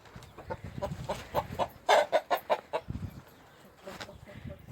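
Several chickens cluck in quick bursts inside a coop, close and moderately loud, with soft murmuring voices and farmyard noise underneath.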